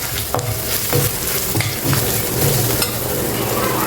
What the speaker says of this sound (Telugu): ఇందులోనే కొంచెం అల్లం వెల్లుల్లి పేస్ట్ వేయండి